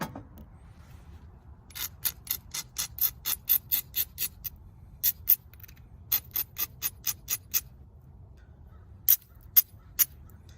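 An obsidian arrowhead blank being ground, heard as bursts of short, crisp scraping strokes in quick rhythmic runs separated by pauses, close and fairly loud over a low background hum.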